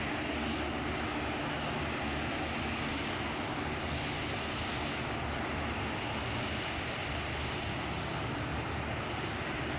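An airliner, Small Planet flight 141, takes off from runway 23 left at Manchester Airport with a steady, loud, broad engine roar that holds for the full ten seconds and has no voices over it.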